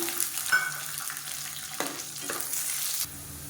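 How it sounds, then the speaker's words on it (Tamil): Half a cup of garlic frying in a pan for chutney, a steady low sizzle broken by occasional stirring scrapes and clinks, and the sizzle cuts off abruptly near the end. "இப்போ மெஷரிங் கப்பில் அரை கப் அளவுக்கு பூண்டு சேர்த்துக்கலாம்"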